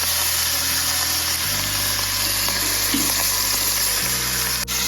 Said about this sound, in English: We're gonna sear on every single side of these short ribs here.